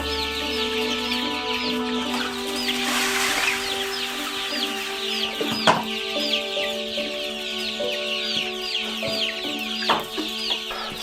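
Chicks and chickens at a farm that sells hatching eggs and chicks cluck steadily together, with the chicks chirping in a busy chorus over a constant hum and a few louder clucks standing out nearby.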